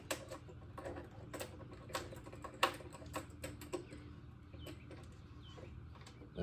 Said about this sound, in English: My bolts are falling right in.